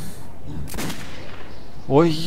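An accidental gunshot in the video game Metro 2033 cracks out once, loud and close, followed moments later by a short voiced sound over quiet ambient background.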